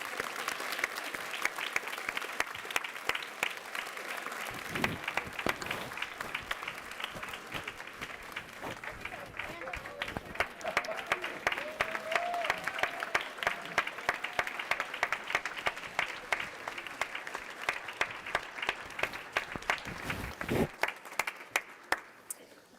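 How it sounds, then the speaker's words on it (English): A round of applause at a county commissioners meeting, crisp sustained clapping from a roomful of people lasting over twenty seconds, with a few voices faintly beneath. "For this one, we could do a round of applause."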